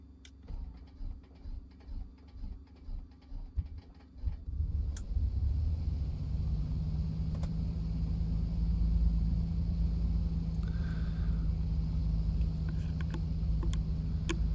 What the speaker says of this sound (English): Set it at about 1000 RPM, let the engine warm up.